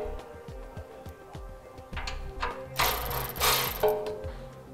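Ratchet clicking as bumper bracket bolts are loosened on a 2012 Jeep Wrangler during a rear recovery bumper install, with quick pawl bursts of close, moderate clicks and a louder, busier stretch of tool noise midway.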